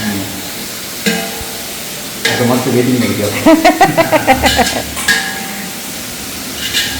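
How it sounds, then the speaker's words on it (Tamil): Hot oil sizzles and crackles in a kadai as spices are tempered for green gram, rising into a busier burst of popping and spluttering midway, with some voices in the background. "பாசி பயிரை தாளிக்கிறதுக்கு கடாயில் எண்ணெய் ஊற்றிட்டுருக்கு"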